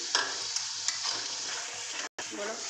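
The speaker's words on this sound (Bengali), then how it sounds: "টক দই দিয়ে সঙ্গে সঙ্গে কিন্তু নাড়তে হবে" Mutton with sour yogurt stirred in a hot frying pan, a continuous close sizzle with scraping spatula strokes and a brief cut near the end; no talking.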